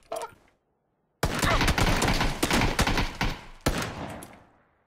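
Revolver gunshots in a shooter video game, a dense burst of loud, rapid cracks with ringing tails after a brief silence, then one more sharp shot that fades out.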